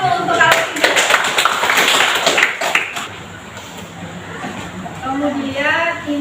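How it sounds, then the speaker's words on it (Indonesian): Classroom applause with many hands clapping in a dense burst, fading out after a few seconds, with voices chattering underneath and a teacher addressing the class. "Tepuk tangan dulu untuk kali ini."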